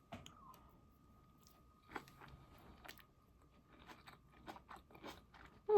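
Someone eats a dish with peppers and compound butter close up, with faint crunches and scattered chewing and biting sounds over a quiet background.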